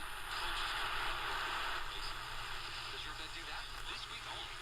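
Medium wave static on a Scott RX16 portable radio, a steady loud hiss and crackle with faint broadcast stations buried in the noise throughout.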